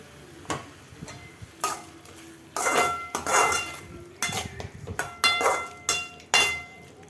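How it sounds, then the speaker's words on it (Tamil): A metal spoon scrapes and clanks repeatedly against a pan while chicken is stirred with tomatoes for a Chettinad chicken gravy, giving loud, irregular clinks and longer scraping strokes up close. "சிக்கன் ஆட் பண்ணி நல்லா கலரி விட்டுக்கலாம்."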